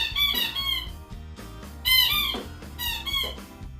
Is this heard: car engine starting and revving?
no